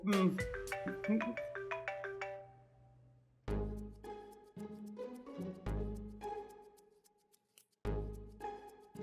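A mobile phone rings with a melodic electronic ringtone, bright quick notes at first, then several loud repeating tone bursts separated by short gaps.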